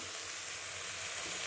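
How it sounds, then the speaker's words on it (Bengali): Onions for egg curry sautéing in a hot pan, a steady close sizzle and hiss of frying that runs without pause and without voices. "পেঁয়াজটা কিন্তু বেশ সুন্দরভাবে কষা হচ্ছে, অনেকটাই কষা হয়ে গেছে"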